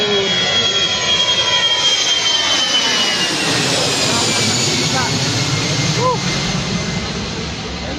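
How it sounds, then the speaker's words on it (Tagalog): A jet airliner takes off from an airport runway with a loud, close, sustained roar that holds steady for the whole stretch, its engine whine slowly shifting as it climbs away. "mapanood man lang tayo ng pa take off na aeroplano oh"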